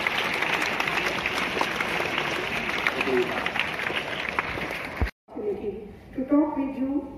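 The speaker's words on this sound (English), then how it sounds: "Please give a big round of applause." An audience applauds for the director of a care home NGO during a visit to St. Xavier's, dense clapping for about five seconds that stops abruptly, followed by people talking.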